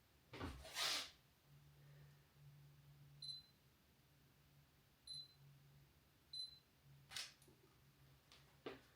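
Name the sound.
camera shutter taking photos of stickers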